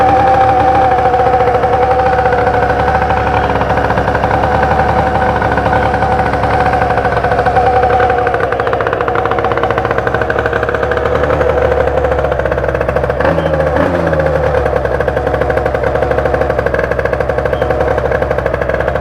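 A Spitro moped with an 86cc aluminium top end idles steadily after a choke start, a loud continuous buzzing drone running close by throughout, with a brief dip and rattle partway through.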